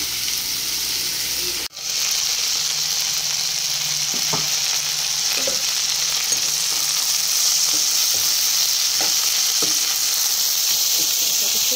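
A vegetable fry sizzles steadily in a pan while it is stirred, with a brief scrape early on and soft occasional clinks under the constant frying hiss. No one speaks.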